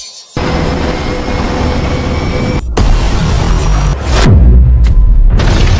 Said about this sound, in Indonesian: terjadi ledakan pada generator